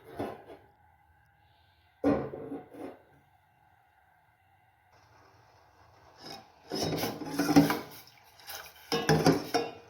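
A pot of Kashmiri pink chai with sugar and green cardamom set down on a stove, giving short scraping, rasping metal contacts in separate bursts with quiet gaps between.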